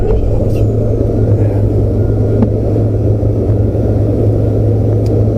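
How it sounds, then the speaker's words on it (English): A vehicle engine is idled down for loading onto a trailer, settling into a steady, loud, low idling rumble with no voices. "We'll idle her down a little bit."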